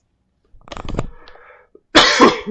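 A person coughs in a quick cluster of several bursts, followed by a pause and a louder, harsher cough near the end, close and clear with no talk.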